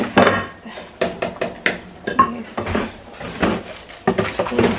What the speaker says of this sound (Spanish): Estoy organizando esas cucharas porque no tienen ni pie ni cabeza